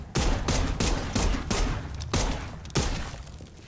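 Rapid gunfire in the video game Dead Island 2, a series of loud, close shots in quick bursts with no talk.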